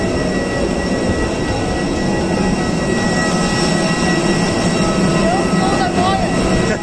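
Loud, steady ambience inside Nepal's airport terminal: a dense wash of crowd murmur and mechanical hum holds at a constant level from start to finish, with voices blended into the din.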